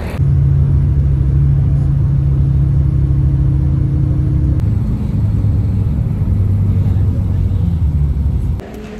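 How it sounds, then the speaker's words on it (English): Steady low engine rumble from a tour bus carrying a group to a hotel in Madinah, droning evenly and loudly throughout with a slight shift midway and a drop near the end, no talk. "Our group has a bus that's taking us to our hotel"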